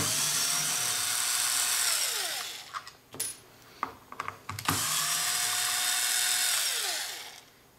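Cordless power drill whirring at high speed while building a beekeeping queen catcher, spinning down with a few short clicks and bursts, then revving up again for a long run.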